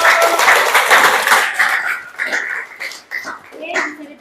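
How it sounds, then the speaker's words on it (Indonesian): A classroom group claps for a student presentation group, giving a loud burst of dense applause for about two seconds. The clapping then thins into scattered claps mixed with chatter and voices. "Tepuk tangan dong buat kelompok 1."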